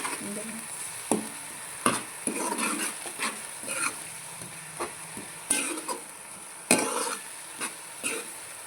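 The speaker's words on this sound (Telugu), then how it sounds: "ఒక టమాటా అండి, ఇది వేసేసుకొని తిప్పేసుకుందాం ఒకసారి" Tomato stirred in a frying pan of sizzling oil for Andhra-style fish curry, with irregular scraping spoon strokes and sharp clacks against the pan over a steady hiss, close and fairly quiet.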